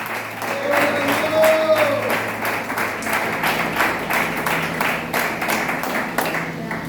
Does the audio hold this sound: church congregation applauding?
yes